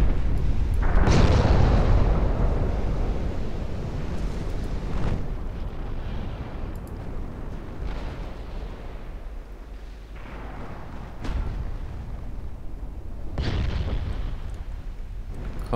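Eight-inch naval guns boom during a fleet battle in Ultimate Admiral. A big blast opens the passage and is followed by several more spaced thuds and rumbling reports over steady low battle noise.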